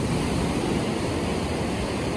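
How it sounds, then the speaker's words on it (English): Ocean surf on a choppy day roars as a dense, continuous wash of breaking waves, loud and close, with some wind buffeting the microphone. "A lot of waves today."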